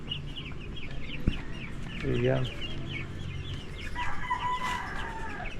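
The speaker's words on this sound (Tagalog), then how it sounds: "Sa likod bahay, may mga manok inaalagaan" Chickens cluck busily nearby in a backyard while a rooster crows, with a brief voice speaking over the farmyard noise.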